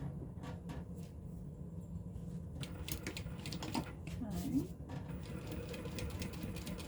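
A sewing machine stitches a seam on a sling in short, quiet bursts of rapid mechanical clatter, with a low voice speaking faintly in the background.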